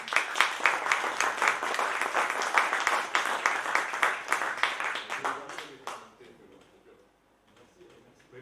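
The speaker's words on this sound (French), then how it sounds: "Et si vous applaudissez." An indoor audience at a medal ceremony claps in sustained, dense applause that fades out after several seconds, leaving a quiet room.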